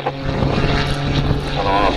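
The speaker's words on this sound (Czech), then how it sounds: "plochá vývrtka na motoru a teď slyšíte, kdo se vyzná v motorech, ten řev." A propeller aircraft in a flat spin at a 2011 airshow, its engine giving a loud, sustained roar with a droning hum and rough, wavering texture throughout.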